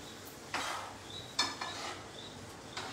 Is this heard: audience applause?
no